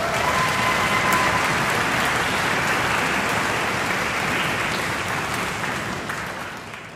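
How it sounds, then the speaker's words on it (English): An audience claps loudly at a summer music camp finale concert, sustained applause that fills the hall and gradually tapers off toward the end, with no voices over it. "could I have a huge round of applause for all of the counselors and RAs who taught"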